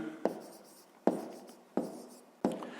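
Four sharp, evenly spaced taps of a pen on paper while writing numbers for a fifth-grade math exercise, each tap followed by a short scratchy stroke, close and quiet in a still room.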